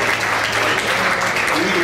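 A crowd claps continuously through an awards gala, dense and loud, a steady wash of applause with no break.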